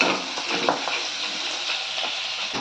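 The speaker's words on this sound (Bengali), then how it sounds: "ওখানে মাছের মাথা ভাজা হচ্ছে" Fish heads fry in a pan in a home kitchen, a steady close hiss and sizzle of hot oil with faint stirring crackles and light clinks, no voices.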